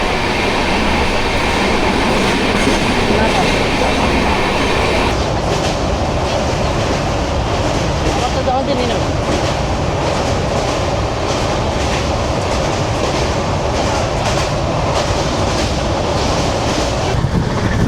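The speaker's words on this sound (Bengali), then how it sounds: "আর এই রাতের অন্ধকারে আমাদের ট্রেন দানবের গতিতে কিন্তু ছুটে চলেছে" A night train runs fast from Sealdah toward NJP, its steady loud rumble and rattling wheel noise filling the whole stretch with a continuous roar and wind buffeting, no voices.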